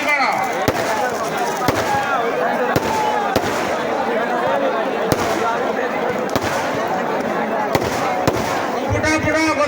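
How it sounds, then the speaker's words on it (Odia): Fireworks and firecrackers go off at a Ravana effigy-burning festival in Jarapada, Angul, making a dense, continuous crackle broken by sharp, loud bangs about once a second, close and unrelenting. "କେବଳ ତୋପ ଆଉ ଫୁଲ ବାଣ ଫୁଟାଅ।"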